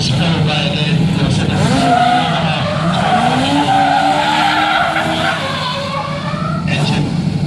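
A Legend race car roars past at the MCN Scottish Motorcycle Show 2015 with screeching tires and a loud, sustained engine whine, close and intense throughout.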